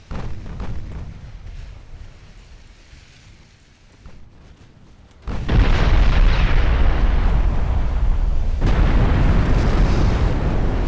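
An explosion as a battleship's frontal turrets are destroyed in the naval warfare game Ultimate Admiral Dreadnoughts. It begins as a muted rumble, then a sudden massive boom swells into a loud, sustained roaring blast that fills the rest of the clip.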